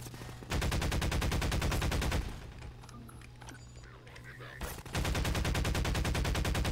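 Enemy gunfire in Half-Life 2 roars as loud sustained automatic bursts, breaks off for a couple of seconds of quieter game noise, then resumes just as heavily.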